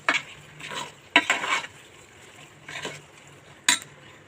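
Chicken biryani mixture frying in a pot after lemon juice is added, heard as a few spaced stirring scrapes and soft clanks over a low sizzle, fairly quiet between strokes.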